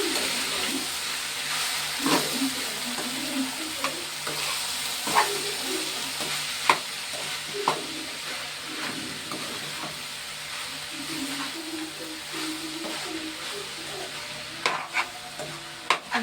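Tempering spices with turmeric sizzle steadily in a hot pan while a spoon stirs them, scraping and knocking against the metal at irregular intervals, close and clear with no talk.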